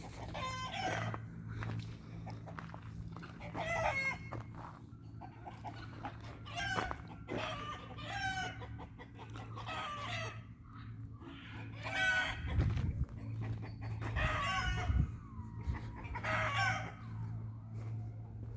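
Chickens cluck and squawk repeatedly nearby in a coop over a steady low hum, with scattered calls throughout and a rooster-like crow partway through.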